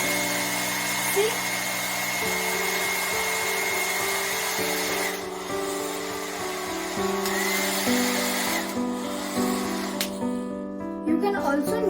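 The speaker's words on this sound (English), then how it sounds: "Now I will be blowing high-speed wind from a hairdryer and show you that these two balloons come closer." A hairdryer blows high-speed air at two balloons, a continuous close whir with shifting steady tones that runs throughout and changes pitch near the end.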